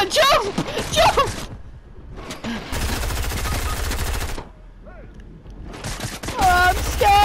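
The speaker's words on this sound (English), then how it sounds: "He's shooting at me." Video-game gunfire in Deadpool comes in loud bursts of rapid shots, broken by gaps, while excited voices talk over and between the firing.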